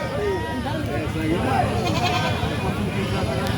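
Local deshi goats bleat repeatedly at a busy livestock market, their wavering cries rising over a steady murmur of crowd voices and people talking nearby.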